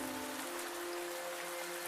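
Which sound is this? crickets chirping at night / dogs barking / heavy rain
heavy rain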